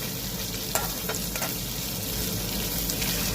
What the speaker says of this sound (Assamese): মিঠাতেলটো এতিয়া অকণ সময় গৰম কৰোঁ, তাৰপিছত পিঁয়াজ, নহৰু, মছলা পাতি চব দি দিম আৰু পিঁয়াজ দি ফ্ৰাই কৰি আছোঁ এতিয়া।